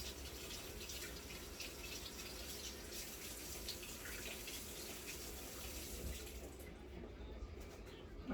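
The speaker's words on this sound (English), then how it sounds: "Wash my radishes here" Tap water runs steadily into a kitchen sink while radishes are washed under it, a broad continuous hiss that holds at a moderate, close level before thinning out near the end.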